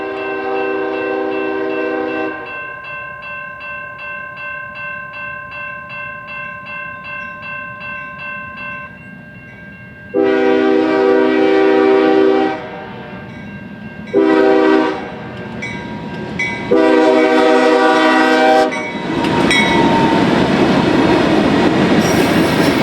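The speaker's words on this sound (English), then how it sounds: "Another BRC-bound manifest is heading our way on the CSX." CSX manifest freight train M350 from Cincinnati, Ohio, bound for the BRC, sounds its horn in long loud blasts at a busy Midwest junction, the steady rumble of cars rolling past between and beneath the horn calls.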